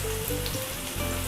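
Shallots and garlic sizzling in a frying pan, a dense, continuous crackle of frying that stays close and fairly loud, with a low hum underneath.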